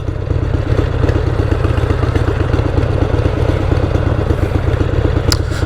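A motorcycle on a holiday ride runs with a continuous mid-pitched engine drone, a rapid pulsing rumble and some mechanical clatter, steady and close throughout with wind noise.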